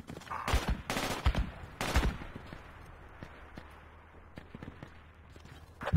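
Gunfire in the tactical shooter game Project Reality, with a few loud, close bursts of shots early on, then scattered fainter distant reports over a low ambient rumble.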